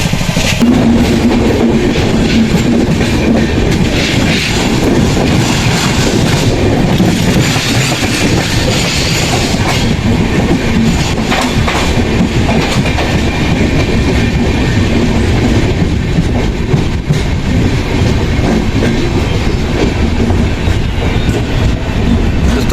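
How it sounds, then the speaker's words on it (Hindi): Howrah Mail sleeper train running on the tracks and slowing, a loud continuous roar of wheels and carriage rumble with rhythmic clickety-clack and occasional squeal, heard from inside the coach. "और अभी यहाँ पर शायद रुकेगी ट्रेन, क्योंकि स्लो हो गई है बहुत ज़्यादा।"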